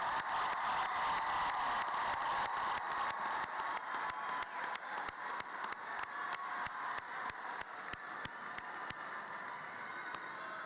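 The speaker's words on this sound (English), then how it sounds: "let's please give our graduates another big round of applause for today" A large crowd in a graduation arena claps for the graduates in a dense, roaring ovation that gradually thins toward scattered claps, with sharp, regular knocks and a crowd murmur underneath.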